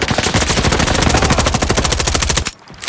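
Automatic gunfire in the Roblox shooter Frontlines, a fast steady stream of loud close shots lasting over two seconds before abruptly stopping, followed by a short quiet tail.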